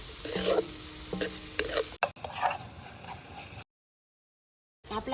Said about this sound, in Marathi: आपण आता कांदा टाकून घेऊ कांदा सोनेरी कलर येईपर्यंत परतून घ्यायचा आहे